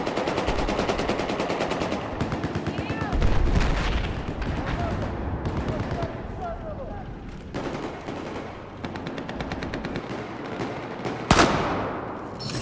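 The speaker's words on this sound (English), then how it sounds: "Oh, I'm getting shot at." Rapid automatic gunfire and explosions from the video game Battlefield 4 rattle continuously, with bursts and a sharp boom near the end, while players talk over the shooting.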